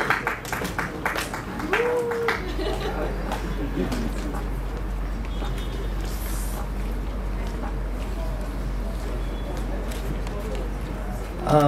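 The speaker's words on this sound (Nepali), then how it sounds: "मैले सानो बोले भन्दा हजुरहरूको ताली सानो बजेको रहेछ भन्ने मैले महसुस गरेँ" Audience applause at a film festival award ceremony, steady clapping from a seated crowd that starts early and holds as an even wash, with a presenter's voice over it at the start.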